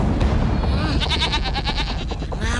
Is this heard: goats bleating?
yes